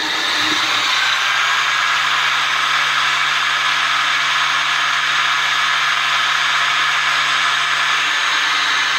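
A kitchen blender grinds oatmeal into a fine powder. Its loud, constant high-pitched whir starts abruptly and runs unbroken throughout, close and alone.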